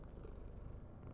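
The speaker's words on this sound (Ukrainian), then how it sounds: "Замурчав як." A friendly cat purrs steadily and continuously while being stroked, a soft low rumble heard close up with no talking.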